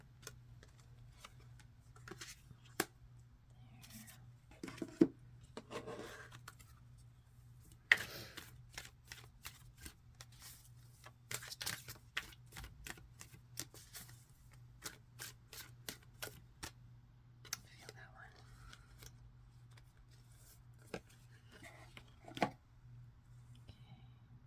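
Oracle and tarot cards are shuffled in quiet, rapid bursts of crisp flicking and riffling, close and sharp, with steady faint background hum and no talking.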